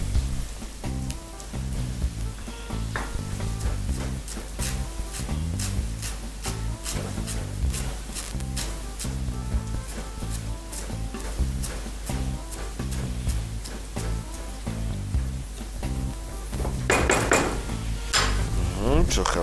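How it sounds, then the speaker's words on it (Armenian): Chopped onions fry in a pan with a constant hiss and sizzle, broken by regular clinks and scrapes of stirring against the metal, close and continuous with no voices. "Սոխարացնել արդեն պատրաստ է։ Սկսեց եռալ։ Եռում է։"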